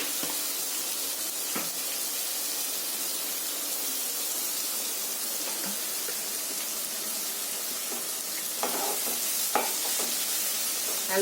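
Steady sizzling of onions frying in a pan, a constant bright hiss with a few soft stirring scrapes and clicks.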